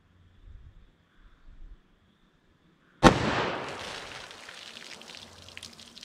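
A single sharp, loud gunshot from a .327 Federal Magnum snub-nose revolver firing a Remington HTP 110 grain semi-jacketed hollow point into a ballistic box, followed by a decaying echoing rumble after a quiet lead-in.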